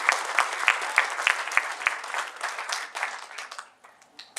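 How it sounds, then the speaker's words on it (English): An audience at a furry convention's closing ceremony in 2017 claps for the operations team, with lively applause opening on a few sharp, evenly spaced claps before it tapers off toward the end. "please, big round of applause for our conventions ops team"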